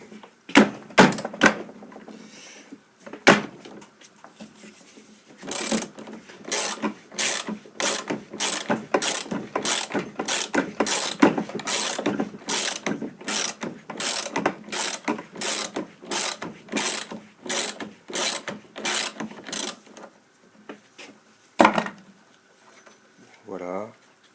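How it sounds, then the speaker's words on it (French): Bosch pump having its high-pressure outlet disassembled, a long run of rapid ratchet clicks in quick bursts, close and crisp, broken by a few isolated knocks and clicks, with a voice heard briefly. "On va maintenant démonter la sortie haute pression."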